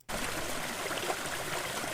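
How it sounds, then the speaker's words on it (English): Water rushing steadily in a beaver colony-building video game, a close, continuous broadband stream and gurgle that starts abruptly and holds at an even level. "all the water is being diverted away"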